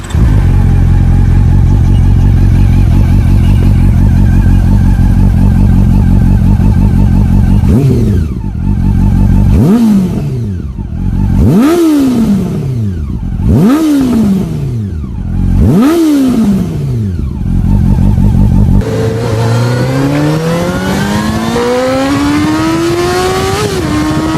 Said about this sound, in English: the sound gets interesting with revs, as the VTEC system engages 2 more valves per cylinder, from 2 to 4, and the intake gets very spicy